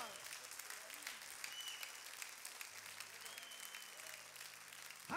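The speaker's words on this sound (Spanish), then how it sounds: "Applause." Church congregation applauds, a dense wash of clapping held at moderate level throughout, with a voice speaking faintly underneath and a louder sound at the very end.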